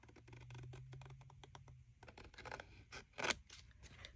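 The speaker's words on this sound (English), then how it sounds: "Now, I'm going to take my scissors." Scissors snip through paper while a 6x6 bee-themed album page is being made: a close run of crisp, quick cuts in an uneven rhythm, with a faint low hum early on and no talking.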